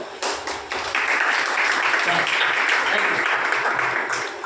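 An audience at a school gathering in Gandevi claps after hearing a story on morality, steady dense applause filling the space for several seconds at an even level.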